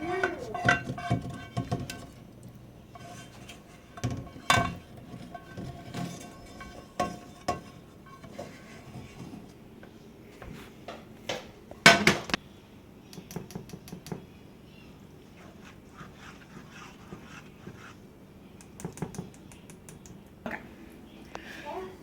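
Potatoes tipped into a cooking pan for soup in a home kitchen: scattered clattering knocks and metallic clinks of pan and utensils, some sharp and close, separated by quieter gaps.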